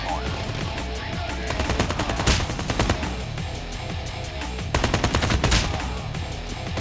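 AK-47 Metallic Mist firing in a video game: dense, continuous bursts of automatic gunfire, loud and close, with sharper volleys swelling twice over a steady rattle.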